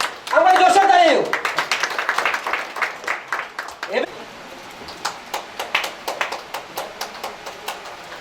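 A voice speaks briefly before an audience breaks into scattered, irregular clapping that continues in uneven bursts at moderate loudness.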